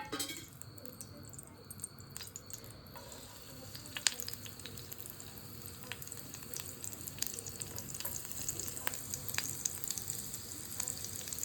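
Oil frying and sizzling in a pan while making chutney for veg momos, a steady close crackle with light clinks of utensils and stirring over it; no one speaks.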